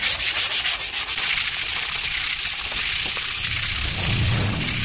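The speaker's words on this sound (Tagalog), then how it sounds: "liha naman po ang gagamitin natin" Sandpaper scrubs a handmade mango-wood air rifle butt, starting with quick rhythmic strokes and settling into a steady, continuous rasping rub, close and fairly loud with no talking.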